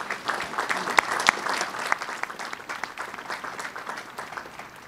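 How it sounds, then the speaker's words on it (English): Audience applause at a UNC Asheville commencement ceremony, a steady wash of many hands clapping with a few sharper claps standing out, moderately distant and sustained throughout. "Let's give them a round of applause."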